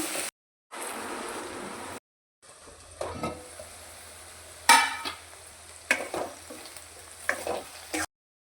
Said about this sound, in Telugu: పసుపు బెండకాయ వేసుకోవాలి ఇది ఆయిల్లోనే మగ్గాలండి మంచిగా